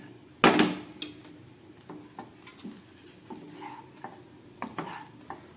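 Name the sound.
stirring and mixing food with ground black pepper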